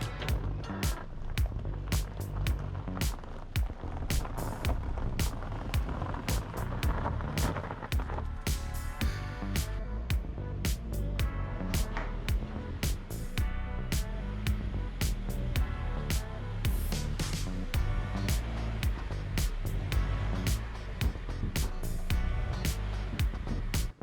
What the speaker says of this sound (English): That wheel made some terrible noises